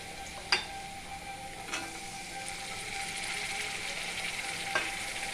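Turmeric powder and chopped green chilli frying in a pan make a soft, continuous sizzle, with a few sharp clicks of a utensil against the pan scattered through.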